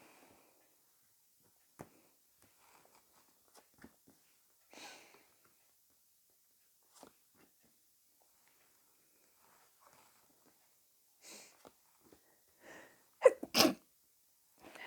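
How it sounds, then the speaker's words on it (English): A single sharp sneeze bursts out near the end after long quiet, preceded by scattered faint rustles and breaths. "Sorry about that, I had to sneeze."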